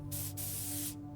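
A spray can hisses in the game Blue Prince, one steady burst of about a second with a brief break near its start, over a low constant hum.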